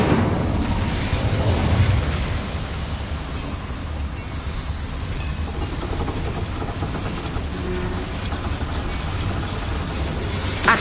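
A fire spell blast roars in Hogwarts Legacy: a loud, dense rushing burst that swells in the first seconds and then holds as a steady, crackling wash of noise for about ten seconds.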